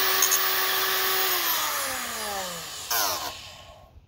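A Bosch oil filter being cut open with a power tool, a loud whining motor whose pitch glides downward over several seconds, with a brief harsher burst near the end before it winds down, close and alone.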